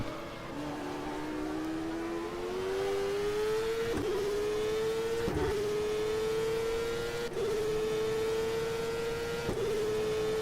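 Penske race car engine in a CART racing game mod, driven at Portland, droning steadily as it climbs through the revs, with sharp dips at each of several gear shifts, loud and close throughout.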